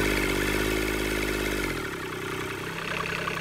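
A Kubota D722 diesel engine on its first start, sitting on a concrete pad with cooling hoses attached, runs close and loud at raised revs, then drops sharply to a lower, rougher speed partway through.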